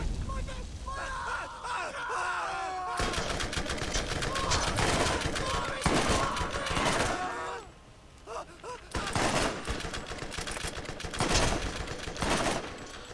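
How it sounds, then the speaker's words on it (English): Incendiary grenades go off in the video game Borderlands amid bursts of gunfire and fiery blasts, loud and chaotic, with someone talking over parts of it. "I'm gonna throw my first incendiary grenade! And I'm gonna burn something, and I'm gonna throw my second one!"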